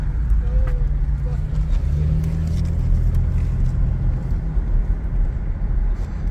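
A Pontiac Bonneville SLE sedan rolls slowly around a neighborhood cul-de-sac, its engine a steady, close, even drone with mild rises in pitch and no break in the hum for the whole stretch.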